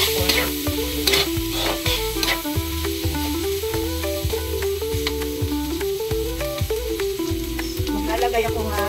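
Pork pieces go back into a pan for ginataang santol and fry with a steady, loud sizzle, while a utensil stirs them with regular clinking scrapes and gentle background music plays throughout.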